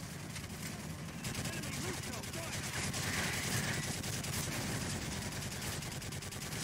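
Dense rapid gunfire from Modern Warfare 3, a sustained rattling burst of automatic shots running through the whole stretch at moderate loudness, with a busy game background behind it.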